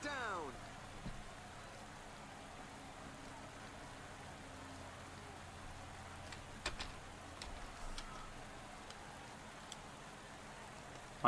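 Rain in the Pro Cycling Manager 2018 video game during a Basque Country stage race, a faint, steady hiss of falling rain with a few light ticks and drops scattered over it.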